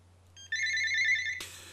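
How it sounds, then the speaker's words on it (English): A phone ringtone sounds close by as a bright, sustained electronic tone, followed by a short burst of harsh noise as it cuts off, over a low steady hum. "There is a phone"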